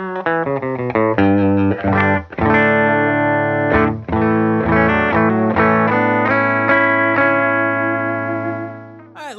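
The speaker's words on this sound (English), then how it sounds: "Silktone amp sounds like this." Scythe Guitars OH20 electric guitar played through a Silktone amp, with loud, slightly driven single notes and chords ringing out with sustain, alone and close.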